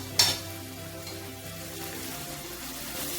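Onion, crushed ginger and garlic frying in a pan, a steady close sizzle that holds throughout, with a brief sharp hiss near the start as the ginger and garlic go in.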